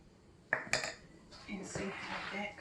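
A spoon clinks and scrapes against a bowl while flour is stirred into a salmon croquette mixture, a couple of sharp taps followed by softer scraping, with a voice talking faintly underneath.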